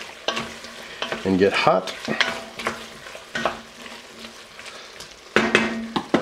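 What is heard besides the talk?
stirring corn chowder vegetables and potatoes in a pot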